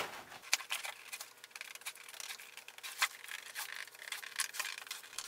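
Scissors or blade trimming a paper or card cone for a homemade solar eclipse sun funnel, with soft repeated rubbing and cutting scrapes close by.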